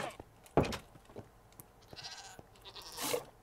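A goat in the Minecraft video game gives short bleats among clicks and game sounds, with a sharp burst early and a brighter, noisier cry near the end.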